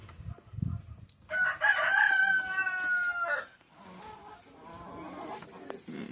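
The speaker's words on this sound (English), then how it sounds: "I can still hear Tiffany clucking away over there by the other chickens." A hen named Tiffany clucks in a henhouse among other chickens, a loud sustained crow-like call in the middle with softer intermittent clucks before and after, fairly near.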